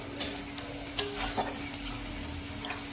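Chopped onion frying lightly in oil in a pan for matar paneer, a quiet steady sizzle with a few soft clinks of a spatula against the pan.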